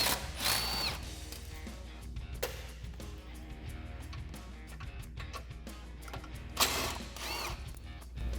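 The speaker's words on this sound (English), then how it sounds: "you can remove those with the same 10mm socket" A ratchet with a 10mm socket turns bolts on a Jeep Wrangler's front bumper, giving quiet, rapid clicking bursts with short pauses and faint metallic clinks between them.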